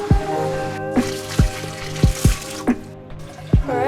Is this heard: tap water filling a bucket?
yes